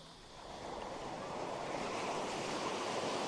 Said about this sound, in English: Still got some lines of swell coming through.